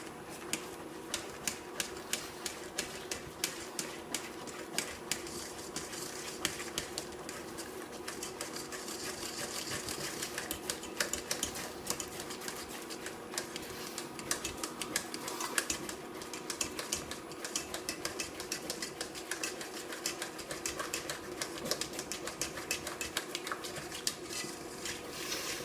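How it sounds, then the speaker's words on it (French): Thickening cream stirred fast in a pan for brioche rolls, the spoon scraping the bottom in a rapid, continuous clatter of small knocks and scrapes, close and steady throughout. "faut bien remuer partout, le fond, bien tout racler pour être sûr que ça colle pas"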